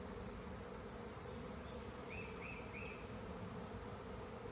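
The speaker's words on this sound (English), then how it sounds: "This is the third time I have bees in the house." Bees from a swarm inside a house, a faint steady insect drone running throughout, thin and continuous with no talking.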